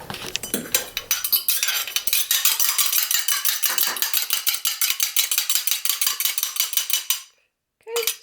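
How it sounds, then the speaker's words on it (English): Egg being whisked in a small bowl with a utensil for gluten-free pancake batter, a fast steady clicking and scraping rhythm that runs close and loud for about seven seconds, then stops with a brief clink. "what I do is I mix it up in a little bowl first"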